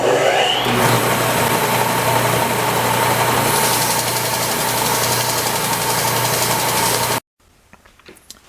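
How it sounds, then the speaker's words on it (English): A belt sander runs steadily and loudly, cleaning up carved wooden feet for a Christmas nutcracker repair, then cuts off abruptly and leaves a quiet room with faint clicks. "And now I'll just clean these feet up here at the belt sander."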